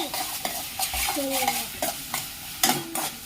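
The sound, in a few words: onion stirred and frying in a hot pan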